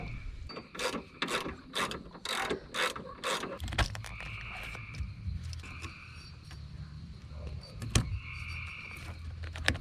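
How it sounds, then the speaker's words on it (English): Ratchet with a 10 mm socket screwing in a wiper motor on a 1993 Ford F-150, a quick series of rhythmic clicking bursts up close, then slower scattered ratcheting clicks and metallic handling noises. "10 on the socket, see if we can get situated here, and we are gonna screw this bad boy into place."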